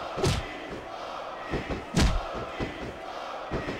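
Crowd noise in the wrestling video game SmackDown vs Raw 2006, a steady arena murmur broken by several sharp thumps and slams, with sudden loud bursts of cheering at irregular intervals.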